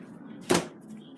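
A door opens or shuts with a single short thud near the middle, standing out briefly over a low background hum in an indoor space.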